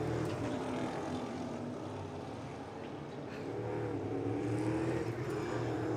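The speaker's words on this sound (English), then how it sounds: "So 11 cars make their way out onto the circuit" NASCAR Euro Series race cars heading out onto the circuit for a qualifying session, a continuous distant engine drone that swells and fades slightly without any single sharp pass.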